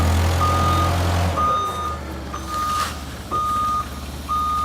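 A forklift reverses with its backup beeper sounding, four evenly spaced loud beeps over a low engine hum, close and with no talk.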